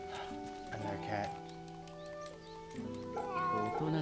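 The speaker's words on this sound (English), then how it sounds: "Another cat." Cat meows from a Fate/Samurai Remnant video game, several short mewing calls over layered game music and ambient tones, with a voice speaking in between.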